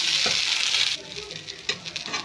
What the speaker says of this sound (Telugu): ఫ్రై చేసుకోవాలి ఇవన్నీ రైస్ పట్టేటట్టు ఫ్రై చేసుకోవాలి